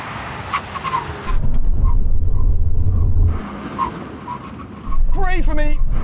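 A Datsun 240Z engine accelerates up toward 60 mph for a brake test, a loud low rumble building in the middle and returning at the end with a rising whine, under speech.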